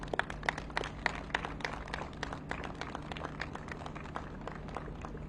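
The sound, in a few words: applause for the Coast Guard ship Hamilton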